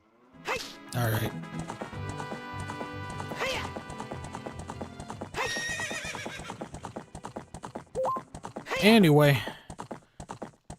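Hooves clip-clop rapidly as a horse gallops in the video game Zelda: Ocarina of Time, with a couple of neighs and game music, while someone speaks briefly over it.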